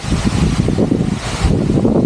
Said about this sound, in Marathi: जोरातच वारा आलाय आणि वादळ सुद्धा आलाय